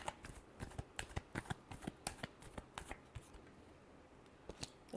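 Tarot cards being shuffled by hand in quick, crisp riffling flicks, a dense run of sharp papery snaps close up, with no talking.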